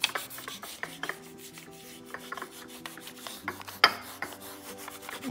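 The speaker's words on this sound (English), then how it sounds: "you're just gonna take that plastic and you're just gonna rub it" Plastic film rubbed firmly over an applied finish on a piece of thrifted home decor, giving soft scratchy rasps in short strokes, close and fairly quiet, with no talking.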